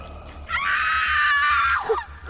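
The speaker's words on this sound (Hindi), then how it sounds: "उस शख्स का भयानक रूप देखकर निधि के हलक से चीख निकल गई" A woman screams in terror as a horror story sound effect, one long sustained shriek that rises in, holds loud and close, then breaks off with a gasp, alone over a low background drone.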